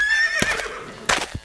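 Cartoon horse in a Kyrgyz animated mountain folk tale giving a short high whinny, followed by a couple of hollow clip-clop hoof knocks, close and clear with no talk.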